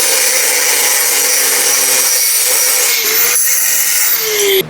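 A power tool cuts through metal into small pieces, a loud continuous grinding whine held close to the microphone, with a slight pitch shift near the end.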